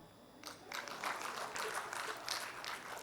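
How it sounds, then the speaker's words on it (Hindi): Audience applause at a Hindi comedy poetry performance by Surender Sharma, a dense wash of clapping that swells in after a brief lull and holds steady, moderately loud, with no talk over it. "और तालियां तो इस बात पर"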